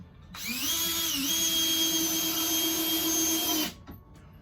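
A power drill whines steadily for about three seconds, rising slightly in pitch as it spins up, then cuts off, while driving screws into wooden stairs under construction.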